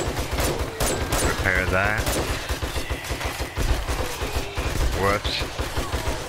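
Rapid, dense bursts of gunfire fill the whole stretch during a horde night in the 7 Days To Die video game, loud and sustained, with players talking over the shooting.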